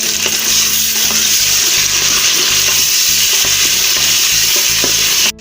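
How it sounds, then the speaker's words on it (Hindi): Onions and garlic fry in a pan for a gobhi gosht curry, with tomatoes added, giving a steady loud sizzle and crackle with stirring scrapes throughout, no talking. "प्याज को हम अच्छी तरह इसमें ब्राउन कर लेंगे और लहसुन को भी"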